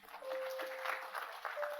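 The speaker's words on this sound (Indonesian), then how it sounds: "Yang setuju berikan tepuk tangan." A church congregation applauds a preacher's call, a short, fairly faint burst of clapping with a murmur of voices.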